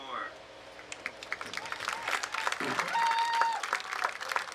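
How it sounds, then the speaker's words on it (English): Applause from an audience at a graduation ceremony, a scattered crowd clapping that builds and thickens over a few seconds, with some voices and a brief tone mixed in. "It's okay, you can clap"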